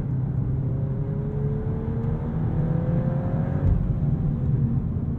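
A manual 2023 VW Golf R accelerates at full throttle, its engine note a steady, smooth drone with a gradually rising tone heard from inside the cabin, continuous and loud throughout.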